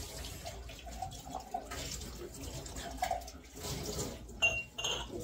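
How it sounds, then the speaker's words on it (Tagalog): Running tap water rinses a pan that was used for frying fish at a home sink, a steady faint splash with small clinks of cookware, no talking. "Hugasan ko yung yung pinagprituhan ng isda para malinis."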